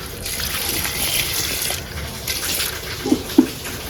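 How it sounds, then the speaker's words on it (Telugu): Water is poured into a thick cooking pot holding jaggery, a soft continuous pour at close range followed by two light knocks of the vessel near the end, with no voices. "ఒక గిద్దకి నీళ్లు పోసుకుందాం."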